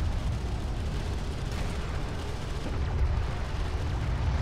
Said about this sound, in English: A turret is under fire.